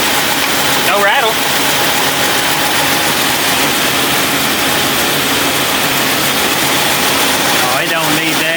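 A car engine idles steadily and loudly after a lifter-cleaning treatment, running smoothly without rattle, while people talk over it.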